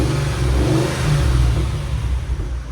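A supercharged 5.5-liter V8 in a Mercedes E 55 AMG sedan with headers and a cat-back exhaust revs loudly and steadily close by, with a deep rumbling drone and small surges, and no voices.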